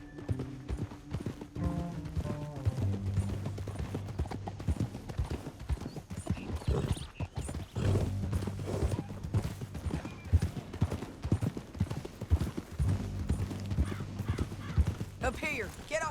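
Horse hooves clip-clop steadily through the Red Dead Redemption game world, riders on horseback in the New Austin canyon, with a horse whinny and game music and voices talking over the hoofbeats throughout.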